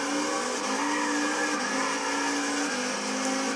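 A Pontiac GTO 5.7 coupe drag car in Gran Turismo 6 roars with sustained wheel spin: a loud, continuous engine drone and tire squeal that stays even and dense from start to finish.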